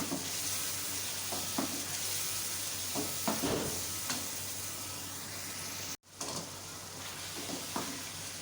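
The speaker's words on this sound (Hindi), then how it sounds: "बस अब इसकी अच्छी तरह से भुनाई कर लें।" Cumin and biryani masala fry with a steady sizzle in a pot for beef biryani, broken by a few scraping stirs of a spoon and a brief cut in sound partway through, with no talking.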